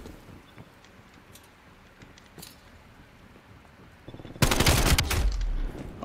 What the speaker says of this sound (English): I'm shooting 9 mils, man, coming out of this fucking thing.